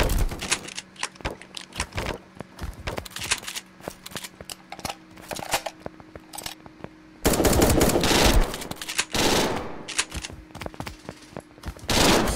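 Fast, loud bursts of gunfire in the video game 1v1.LOL, with rapid clattering volleys separated by brief gaps.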